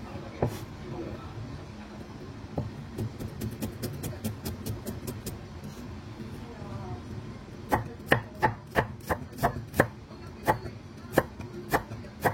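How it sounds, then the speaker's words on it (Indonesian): A knife chops food into small pieces on a cutting board: scattered sharp taps at first, then quick, evenly spaced close strikes in bursts. "Setelah kita iris kecil-kecil seperti ini sampai dengan selesai"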